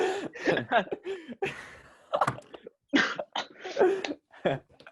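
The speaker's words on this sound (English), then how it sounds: "Just cough." A person coughs and clears their throat several times in short bursts, close up, with a bit of chuckling mixed in.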